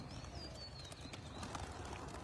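Racing pigeons coo and call faintly during a pigeon race, soft and distant over steady low outdoor background noise.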